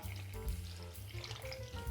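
Warm water poured into a ciabatta dough mix of flour and yeast in a bowl, a steady close splashing pour lasting the whole moment with no talking.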